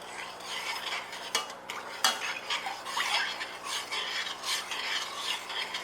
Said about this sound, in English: Stir it in really well